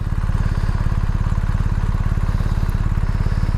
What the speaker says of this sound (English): It's literally a 1250 boxer motor just attached to that frame